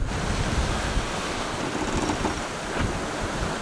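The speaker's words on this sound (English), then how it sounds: "It's like really, really short waves, and it feels like we're racing" Strong wind roars across the microphone while short, choppy waves slap steadily around a 46-foot sailboat under way, a dense continuous wash with no voices.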